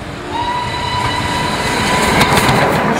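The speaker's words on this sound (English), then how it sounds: "Steam trains, been here, haunting me for 50 years." Steam train running on rails, a steady loud rumbling roll with a faint whistle-like tone held through it and rising wheel noise toward the end, no voices.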